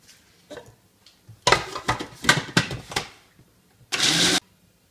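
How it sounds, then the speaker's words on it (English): A 35-year-old Braun blender whirs in several short pulses, each a brief burst of motor noise, followed by one slightly longer burst, close and fairly loud. "very nice 35-year-old Braun blender"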